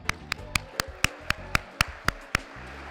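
A single person claps about ten times at a steady, even pace, each sharp crack standing out against a quiet room at a celebration event.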